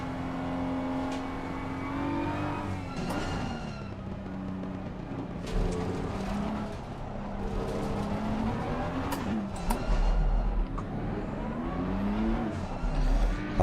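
A race car in the Assetto Corsa Competizione racing game drones steadily at high revs, its engine pitch rising and falling as it accelerates and lifts, with faint tyre scrubbing throughout.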